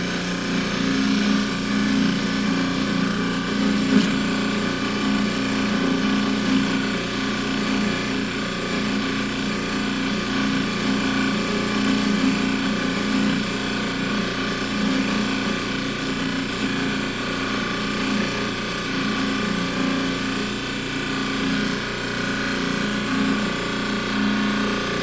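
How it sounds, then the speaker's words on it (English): A bench polishing wheel buffs a piece in a steady, unbroken whir with a faint grinding hiss, holding an even level throughout without any talk. "Now we'll go ahead and put it on the wheel here,"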